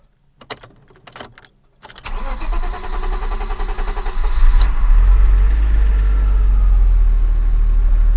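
A BMW's engine starts after reassembly, following keys jangling and clicks, then cranks and catches into a loud, steady, deep idle close by.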